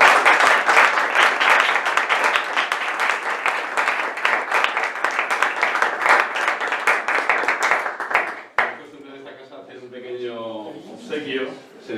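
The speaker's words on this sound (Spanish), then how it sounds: "pues un aplauso de agradecimiento" Thank-you applause from an audience at a talk, dense and steady for about eight seconds before cutting off abruptly, followed by a speaker talking.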